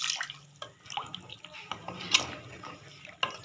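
Water is added to a pot of slow-cooked beef tubers curry, heard as intermittent splashes and drips, close and fairly clear, with a few sharper splashes along the way.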